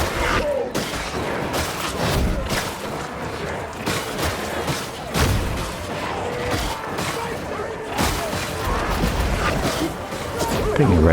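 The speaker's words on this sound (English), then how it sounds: "I just thought I'd pepper them with a few shots" Gunshots from a Skitarii firing on enemies in Darktide, a loose volley of sharp cracks and impacts over combat noise, with someone talking over the shooting.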